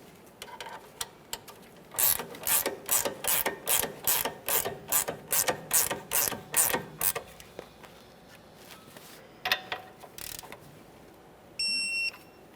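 A ratchet wrench cranks a sway bar link mounting nut on a 2014-2019 Toyota Corolla, giving a fast run of about fourteen crisp, evenly spaced clicks, then a pause and a couple of short bursts, close and clear.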